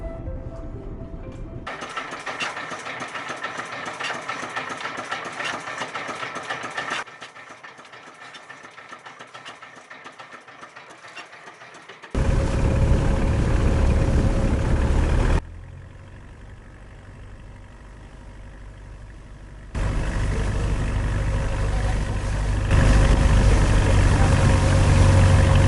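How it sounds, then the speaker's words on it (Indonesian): A boat engine drones steadily throughout a 30-minute sea crossing to Kalumbing Island in Indonesia. The drone shifts abruptly between louder and softer stretches as if heard from different spots on board, with no talking. "menempuh 30 menit perjalanan laut menggunakan perahu"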